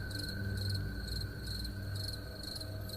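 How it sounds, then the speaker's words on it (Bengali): Crickets chirping at night beside a quiet graveyard, a steady high trill in regular pulsing bursts, faint and even, with no other sounds. "শুধু ঝিঝি পোকার ডাক"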